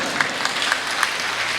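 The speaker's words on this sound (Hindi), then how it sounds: "कुछ तालियां बजी" Brief scattered clapping from the audience at a Hindi comic poetry recital, a short burst of applause with a few distinct claps standing out.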